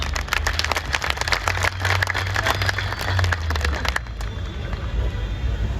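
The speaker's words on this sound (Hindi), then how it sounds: "एक बार जोर से जोरदार तालियां।" A crowd claps and cheers at a panchayat election victory celebration, a dense, loud wash of applause that carries on steadily for several seconds with a low rumble beneath.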